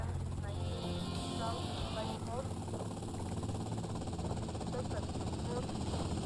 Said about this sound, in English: almost crashed in the police helicopter